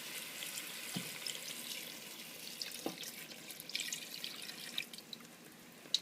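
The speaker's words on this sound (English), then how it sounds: "here I have two cups of chicken broth, and we're just going to add this down in" Chicken broth pours into a pot of gumbo with a soft, continuous liquid splash and a few drips and bubbles at low volume, with no talk.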